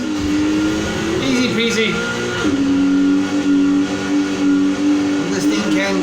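A Volkswagen Golf GTI '76 racing in Need for Speed Heat, its engine droning loud and steady as it accelerates, with pitch rising and dipping through gear changes while a voice talks over it.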